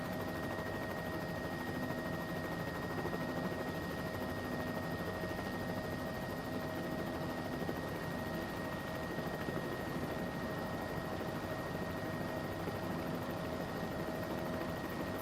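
Steady helicopter drone in a flight video game: a constant, loud, unbroken whir of rotor and engine with a faint tonal whine, unchanged from start to finish and with no voices.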